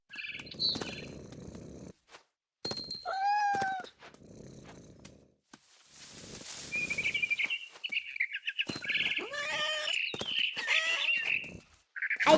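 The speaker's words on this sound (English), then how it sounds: "Then I heard chirping outside my window. It was a barn swallow going back to her nest." A barn swallow chirps in the game What Remains of Edith Finch, bright twittering calls in short bursts and trills separated by pauses, alongside soft low purring and rustling sounds.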